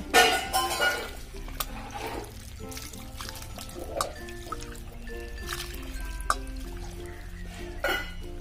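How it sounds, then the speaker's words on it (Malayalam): Thick first-extract coconut milk is poured into a pot of Kerala ada pradhaman payasam, making a soft trickling, liquid pour with faint clinks at low volume. No one speaks. "ഇനി ഞാൻ ഫസ്റ്റ് പാൽ ഒഴിക്കുകയാണ്"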